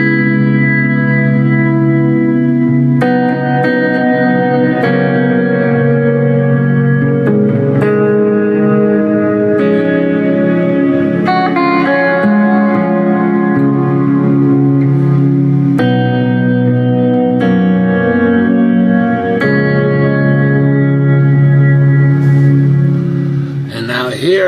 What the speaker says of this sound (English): now this is the deluxe reverb I had recently gotten